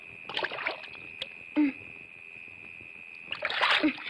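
Feet being washed with water, a few bursts of splashing and sloshing separated by quieter gaps, heard over a steady high tone, with a brief voice in the middle.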